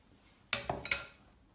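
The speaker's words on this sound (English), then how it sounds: "He's going to use the palette knife to scrape off of the spatula." A metal palette knife scraping a spatula while a Mars bar cake is made, three quick close clinks and scrapes in a row, then quiet.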